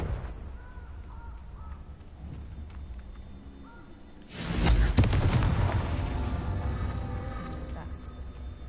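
A Confringo fire blast spell explodes in the video game Hogwarts Legacy, a sudden loud burst that swells and lingers over a low rumble after a quieter stretch with a voice speaking.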